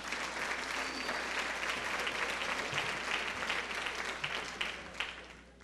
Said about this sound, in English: but you can applaud